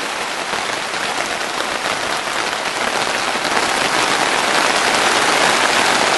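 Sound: rain starting to fall in a polytunnel

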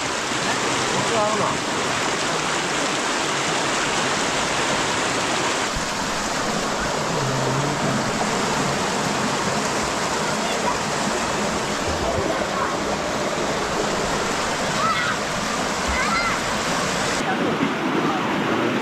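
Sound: rushing stream water

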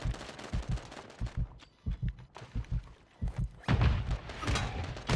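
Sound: grenade explosions amid gunfire in Call of Duty video game

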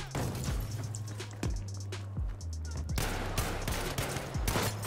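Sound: gunfire in Battlefield V video game

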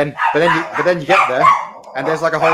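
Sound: dog barking

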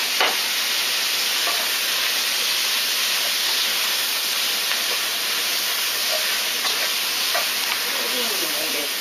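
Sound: stir-frying onions with oil in an iron pan

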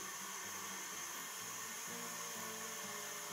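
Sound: electric mixer whipping eggs and sugar at high speed

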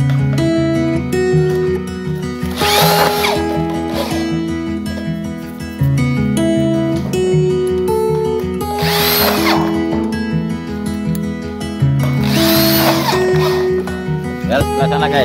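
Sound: power drill driving bolts into light steel roof truss

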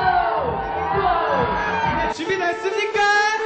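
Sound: two show MCs shouting excited cheers

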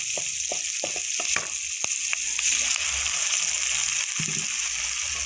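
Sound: onions frying and sizzling in a pan

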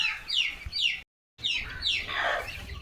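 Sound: chickens clucking

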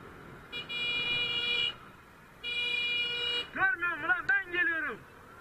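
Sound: motorcycle rider honking horn at minibus in traffic

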